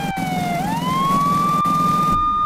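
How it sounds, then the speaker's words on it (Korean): A Minecraft police siren wails steadily, its pitch dipping then rising and holding, loud and close over a low rumbling background, cutting off abruptly near the end. "뭐야 사이렌 소리!"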